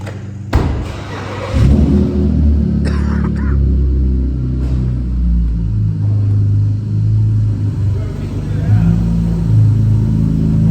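A car engine rumbles loudly close by, rising and revving over several seconds with a few sharp thumps near the start, while people talk over it.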